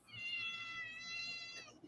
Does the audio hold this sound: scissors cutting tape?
no